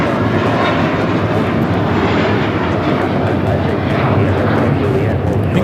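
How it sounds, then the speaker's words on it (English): A JetBlue Airbus A321 takes off from LAX, a loud sustained jet roar that fills the scene, heard from the ground without any talk. "taking off to Fort Lauderdale, JetBlue 1700 on the A321"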